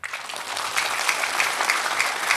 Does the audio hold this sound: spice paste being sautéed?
no